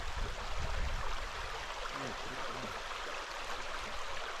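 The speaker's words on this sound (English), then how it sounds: "As we are walking along the creek, which is very shallow." A shallow creek runs over rock along a Pennsylvania hiking trail, a soft continuous trickle and wash of water close by with footsteps and faint voices mixed in.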